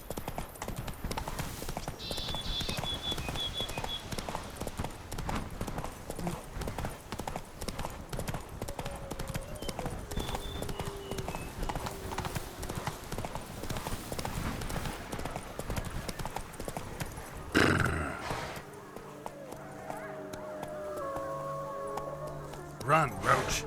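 Roach, a horse in The Witcher 3: Wild Hunt – Blood and Wine, gallops with a steady, continuous clip-clop of hooves that runs throughout, joined near the end by a brief louder passage and game sounds, with voices present.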